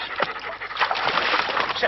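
A dog pants quickly and rhythmically at close range, its rapid breaths steady for a couple of seconds with no talking over it.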